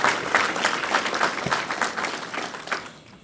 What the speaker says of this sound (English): And please give them a round of applause.